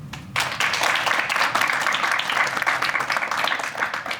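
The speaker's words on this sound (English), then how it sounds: "I want every one of you to give a round of applause to UofT Public Speaking Club first" An audience at a university public speaking talk breaks into applause, a sudden loud burst of many hands clapping that holds steady for several seconds.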